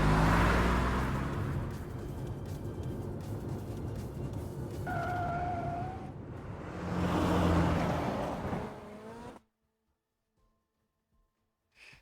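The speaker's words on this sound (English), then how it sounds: "The car emerges from the tunnel and races through the streets of the killing zone." A car engine revs and whooshes past in waves in a video game race through city streets, rising and falling, with a brief electronic tone midway before cutting abruptly to near silence.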